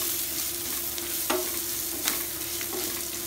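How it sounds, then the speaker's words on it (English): Onions fry with turmeric in a pan, a steady close sizzle with a few sharp scraping strokes of a spatula spaced about a second apart. "Fry the onions till it is translucent. Now add the turmeric"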